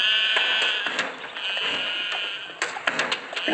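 A goat bleating repeatedly at night, a series of loud, nasal, wavering cries in quick succession, some overlapping, close and insistent with no other voices.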